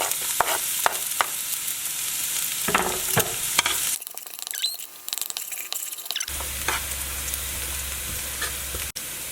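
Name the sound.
chopped garlic frying in hot oil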